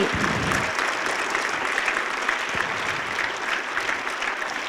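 A crowd of students at a school meditation program applauds Subhash Patriji, sustained clapping at moderate loudness that keeps an even level throughout.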